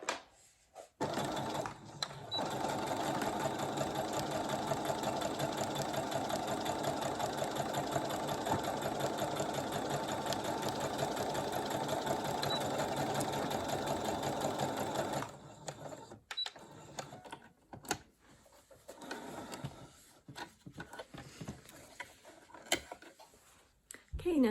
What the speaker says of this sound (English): Okay, and then we're going to go ahead and sew.